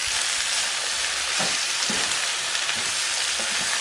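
Boiled banana blossom sizzles steadily as it is stir-fried with spices in a pan, with a constant frying hiss and occasional soft stirring scrapes and clinks, no talking.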